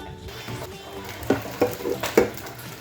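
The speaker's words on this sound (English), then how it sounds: "I will just fry my fish" Fish frying in a pan while cooking spinach stew: a steady close sizzle with several sharper spits and pops near the end.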